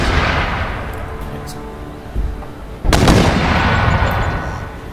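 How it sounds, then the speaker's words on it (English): Cannon artillery fire from a battle in the video game Empire: Total War, with a steady roar of gunfire and two heavy blasts a little past the midpoint. "the cannons are fine for now. I'm fine to keep firing on them."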